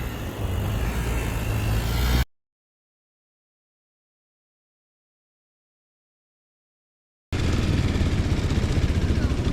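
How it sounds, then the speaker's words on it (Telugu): A Hero Xpulse 200 4V motorcycle runs on a beach at dawn, a steady engine drone with surf-like noise that cuts out into a long silence before returning just as loud. "బైక్ తీసుకొని వస్తున్నాడు."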